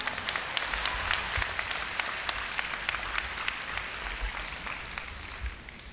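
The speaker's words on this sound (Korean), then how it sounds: "염재호 총장님을 뜨거운 박수로 맞이해 주시기 바랍니다." Sustained applause from a large audience in a university hall at a Korea University entrance ceremony, welcoming the university president; steady dense clapping throughout with no voices over it.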